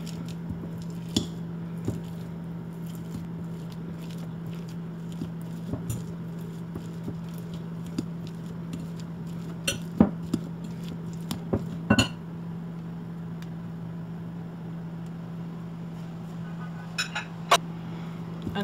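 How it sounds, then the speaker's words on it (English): Peeled green bananas being mashed with a potato masher, with repeated soft squishes and scattered clinks against the bowl over a steady low hum. Nobody speaks. "I'm using my potato masher. I'm just going to simply just mash it up like this."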